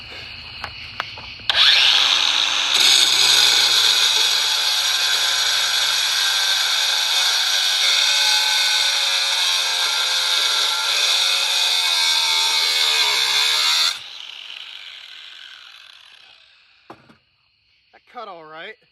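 A Spyder multi-material cut-off wheel grinds through metal in one loud, continuous high-pitched whine lasting about twelve seconds, then the tool spins down and falls quiet.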